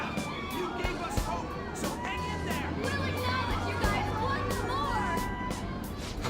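A crowd of many voices cheers and murmurs in a dense, steady wash of babble in the video game Persona 5 Royal, with no single voice standing out.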